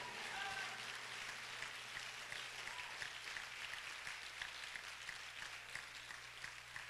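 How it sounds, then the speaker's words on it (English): A congregation at a church conference claps hands hard in praise, a continuous, fairly faint wash of many hands clapping with a low steady hum beneath and voices mixed in. "Clap your hands hard and praise the Lord"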